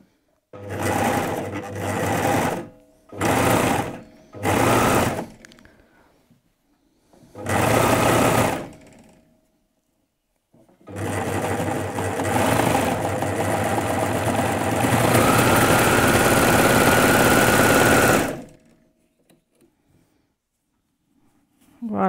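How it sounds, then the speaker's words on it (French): A sewing machine stitches jersey fabric for a basic T-shirt: several short bursts of whirring motor, then one long continuous run of stitching, close and loud with pauses between. "Je baisse le pied de biche et donc je vais coudre."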